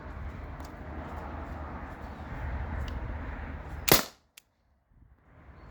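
A modded T4E TR50 CO2 air gun fires a single sharp, loud crack that cuts off abruptly into near silence, after a stretch of steady background noise.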